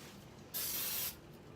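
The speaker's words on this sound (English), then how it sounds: "And then I'm going to spray the outside and just do a quick spray." A single short burst of hissing spray lasting about half a second: mite treatment being sprayed inside a snake enclosure with a log in it. Quiet, muffled background before and after.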